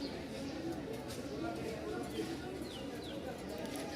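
Pigeons coo in a busy pigeon market where birds are offered for sale, a soft murmuring coo under constant crowd noise and a few brief chirps, fairly faint and blended into the background hubbub.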